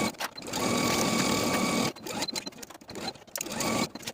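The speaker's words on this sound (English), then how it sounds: "sew the sides and top of your collar with a 3/8 inch seam allowance" Close, fast whirring stitching of a sewing machine running a collar seam in short bursts, with brief pauses and small clicks between runs.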